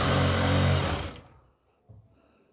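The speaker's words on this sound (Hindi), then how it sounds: "ऐसे करके सिलाई लगाएंगे।" A sewing machine stitches a kurti with a loud, steady motorized whir for about a second before winding down and stopping, followed by a faint bump.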